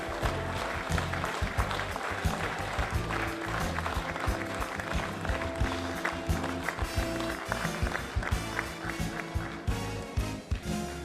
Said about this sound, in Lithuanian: Garsesni aplodismentai.